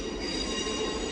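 A passenger train rolls into Glasgow Central High Level station, a steady loud rumble of wheels on rail with sustained high squealing from the wheels, continuous and close throughout.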